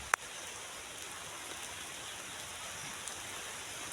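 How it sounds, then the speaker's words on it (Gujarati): Rain falls steadily as an even, faint hiss of drops, with a sharp click at the start and no talking. "તો વરસાદ ચાલુ થઈ ગયો"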